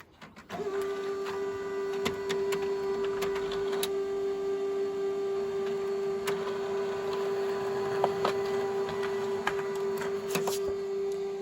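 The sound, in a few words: printer printing on colored paper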